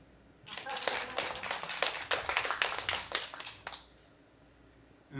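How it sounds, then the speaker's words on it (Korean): A symposium audience breaks into a burst of applause, dense overlapping claps starting abruptly, holding for about three seconds, then cutting off into quiet room tone. "박수"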